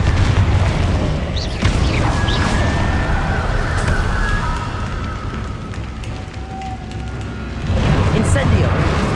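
Spell explosions in Hogwarts Legacy, the Confringo fire blast, a loud, dense burst of rumbling booms and crackling fire effects that stays heavy throughout, with brief whistling game tones over it.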